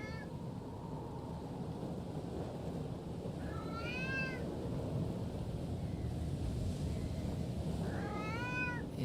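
A cat in the Foolish Mortals video game meows twice, two rising, wavering cries around the middle and end, over a steady rumble of rain and wind.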